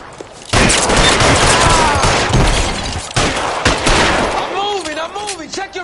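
Gunfire in L.A. Noire crackles in a dense, loud fusillade of overlapping shots and bursts up close, while voices shout over the shooting and a whistling, warbling tone rises near the end.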